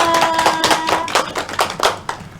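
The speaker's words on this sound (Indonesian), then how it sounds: "Kita kasih tepuk tangan Mbak Krista" Classroom applause for a student teacher during a geography microteaching session, a short burst of close, uneven hand claps with irregular peaks, no talking over it.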